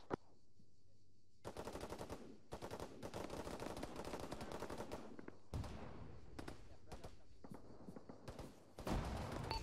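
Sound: UAVs firing .50 caliber guns in Arma 3 video game

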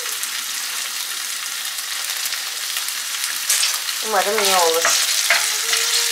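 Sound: garlic and shallots frying in olive oil

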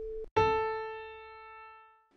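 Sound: piano note at 440 hertz

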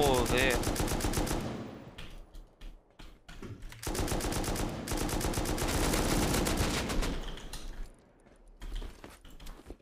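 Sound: gunfire from many players shooting in a video game

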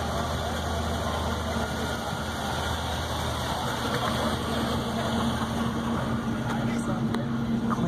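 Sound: 1950 Cadillac Series 62 Coupe engine running

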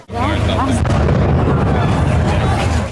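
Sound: explosion

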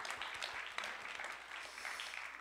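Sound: audience applause

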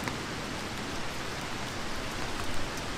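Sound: rain falling

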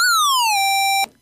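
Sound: Nightlife VSTi synth oscillator 2 with sync off

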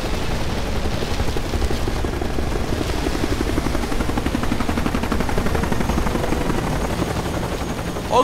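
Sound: helicopter flying low

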